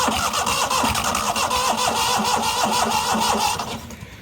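The starter cranks the engine of a neglected 1998 Yazoo YTKC22 three-wheel mower with a loud, close, rhythmic chug for several seconds, then goes quiet, with no talking.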